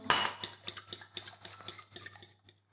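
A spoon stirs zucchini savoury cake batter in a bowl, clinking against the sides in a quick, irregular run of light taps, close and fairly quiet, with no talking.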